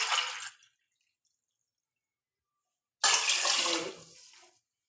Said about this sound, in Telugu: ఏ గ్లాస్తో రైస్ వేస్తామో ఆ గ్లాస్లోనే వాటర్ అయితే పోసుకోవాలి.